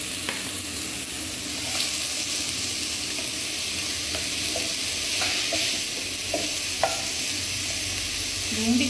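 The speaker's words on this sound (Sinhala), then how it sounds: "ලුණු ටික රම්මන් පාටට බැදෙනකොට ඉතින් තියාගන්න ඕන" Onions and prawn paste fry in a pan with a steady bright sizzle, broken by occasional clicks and scrapes of stirring.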